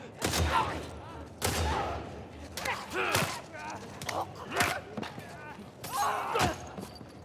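Gunshots in The Last of Us Part II, a series of sharp, loud reports spaced a second or so apart, with the player talking quietly between and under them.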